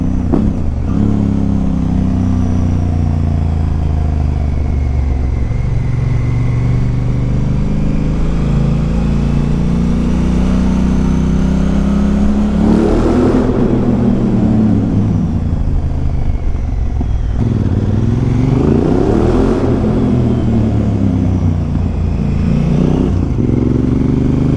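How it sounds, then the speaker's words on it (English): A loud car engine drones and revs repeatedly, exhaust rumbling and echoing off tunnel walls in Brighton, sustained throughout with rising and falling pitch. "my exhaust does sound great reverberating off of these walls"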